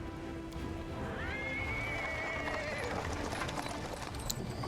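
A small horse drawing a cart gives a clear whinny over a constant rumbling background, heard at moderate distance amid ambient street noise.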